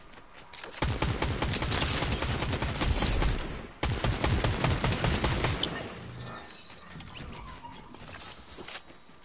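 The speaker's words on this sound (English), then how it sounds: "I'm hearing some gunshots." Rapid bursts of automatic gunfire in a shooter video game, dense crackling volleys that break briefly near four seconds, resume, then thin into scattered shots and ambient noise.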